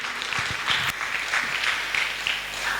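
Church congregation applauding during a Sunday service, a steady, fairly close burst of clapping hands lasting about three seconds with no distinct cheering.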